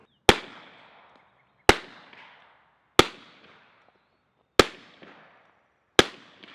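A suppressed Remington R1 1911 fires 230-grain Fiocchi .45 ball ammunition: five sharp, evenly spaced muffled cracks, each followed by a short fading tail and near silence in between.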